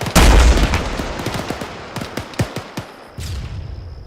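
Rapid bursts of gunfire from an Arma 3 military battle exercise, a loud opening blast followed by a ragged string of sharp shots and echoing cracks, with a tonal whine entering near the end.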